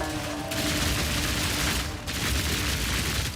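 Rapid, continuous automatic crossbow fire from a Witch Hunter character in Path of Exile 2, a dense loud barrage of shots with heavy low impacts running the whole stretch, briefly dipping once before resuming.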